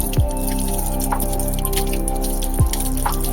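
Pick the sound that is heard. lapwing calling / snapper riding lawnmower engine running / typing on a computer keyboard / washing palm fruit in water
washing palm fruit in water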